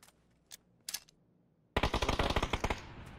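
Rapid automatic gunfire in PUBG, a dense burst of about a dozen close, loud shots after a few isolated sharp cracks, with no voices over it.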